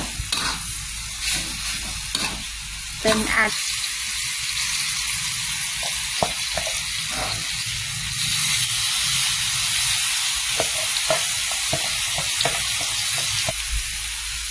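Paste sizzles and crackles in a hot pan while a utensil scrapes and stirs, with a few brief spoken words over the frying.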